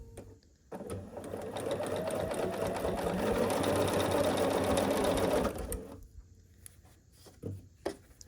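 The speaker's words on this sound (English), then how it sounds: "So we're just gonna sew 2 different strips, each of 3 squares, and then we will sew them to that center rectangle." A sewing machine stitching strips of quilt squares runs in one loud steady burst of rapid whirring, then stops, leaving quiet handling sounds.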